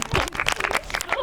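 A studio audience at an Armenian game show claps for the winning team, brief scattered applause mixed with voices and talk.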